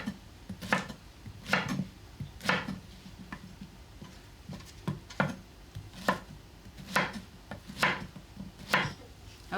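A knife dices zucchini on a cutting board for ciambotta, crisp, close chopping taps in an uneven rhythm of about a dozen strikes, quiet and alone.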